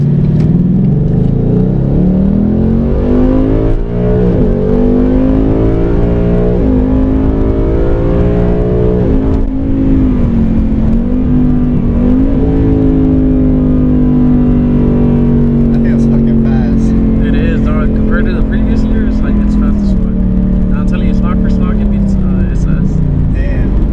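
A 2018 Ford Mustang GT with a 10-speed automatic accelerates hard in sport mode, heard from inside the cabin: a loud engine roar climbs repeatedly through gear changes, then settles into a sustained high drone.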